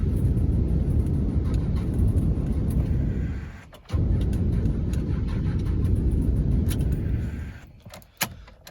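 Cummins 12-valve diesel engine idling after a cold start with no block heater following a month of sitting, a loud steady low rumble that briefly dips and cuts out before resuming, with no talking.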